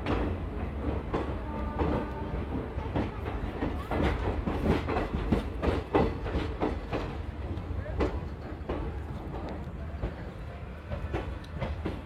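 A 44-year-old passenger train, the Gour Express from Malda to Sealdah, rumbles steadily nearby, with clattering wheel noise and rhythmic clacks, and voices murmur faintly underneath.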